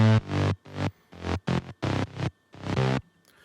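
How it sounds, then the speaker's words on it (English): Romero's Saber bass preset in Sylenth1 for a future house drop, a handful of bright, buzzy stabbed notes in an uneven rhythm with short gaps, loud and isolated with no voices. "So the first one is in Sylenth1 by Romero called Saber"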